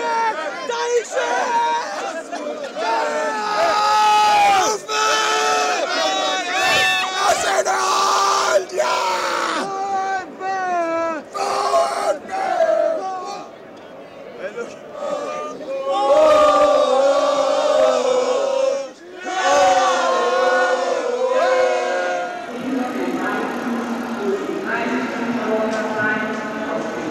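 VfB Stuttgart fans in a stadium yell and cheer in loud, overlapping waves, with crowd roar and excited shouting voices close by throughout.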